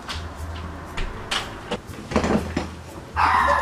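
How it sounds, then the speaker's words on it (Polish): A small dog knocks and paws at a closed room door, making several irregular taps and bumps close by, then a rougher scratchy scrape at the end. "Mój piesek chce wyjść z pokoju i pukać w drzwi."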